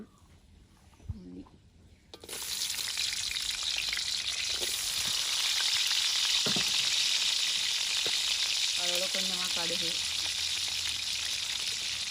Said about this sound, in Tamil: இப்போ வந்து எண்ணெய் நல்லா குறைச்சிட்டு இப்போ வந்து நாங்கள் வெந்தயம் போடுவோம்